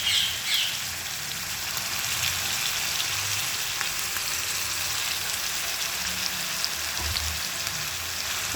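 Eggplant tipped into masala frying in a pan, giving a bright continuous sizzle that stays fairly loud and close, with a slightly sharper burst at the start.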